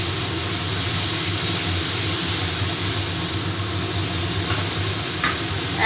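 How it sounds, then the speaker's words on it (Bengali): Cumin powder and green chili paste stirred into sizzling onions in a pan for a Bengali tangra fish curry. A constant loud hiss and crackle of frying runs throughout, with faint scraping of the stirring. "এবার পেঁয়াজের সাথে এটাকে ভালো করে একটু মিশিয়ে নেব।"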